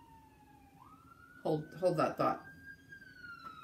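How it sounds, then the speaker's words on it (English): An ambulance siren wails outside as a steady, gradually rising tone, moderately loud. A person speaks briefly over it. "It's an ambulance."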